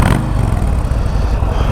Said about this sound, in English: Doesn't sound terrible with a stock exhaust.